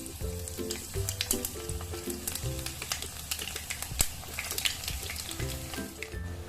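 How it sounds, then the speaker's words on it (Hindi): Potato fingers frying in hot oil over medium heat, a steady close sizzle with crackling bursts and occasional clinks of a utensil, with no talking. "इनको मीडियम आंच पर हमें फ्राई करना है ताकि अच्छे से अंदर तक ये फ्राई हो जाए।"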